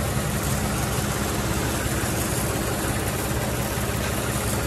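Mini tractor fitted with a 1500 litre agricultural spray tank runs with a steady, loud, rumbling engine drone that holds evenly from start to finish, with no voices.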